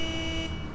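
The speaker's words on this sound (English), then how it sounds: "I hate it when they beep, like, just carry on beeping" A car horn beeps in GTA IV with the LCPDFR police mod, a steady sustained electronic honk lasting under a second before cutting off.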